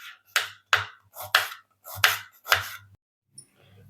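Two onions sliced thin with a knife on a board, six crisp evenly spaced chops in a steady rhythm, close and clear with no talk.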